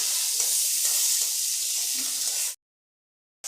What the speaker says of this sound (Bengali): আমি আলুগুলো ভেজে নিচ্ছি আর একটু হলুদ দিয়ে দিলাম দিয়ে আলুগুলো আমি ভালো করে ভেজে নেব